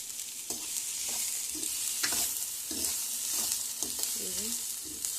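Chopped onions sizzle steadily in hot oil in a pan, with scraping stirring strokes now and then over the constant close hiss; no talking.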